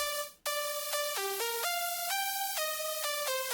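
A progressive house synth lead preset plays a clean, bright melody of sustained tones stepping between pitches, loud and alone after a brief noisy swell at the start.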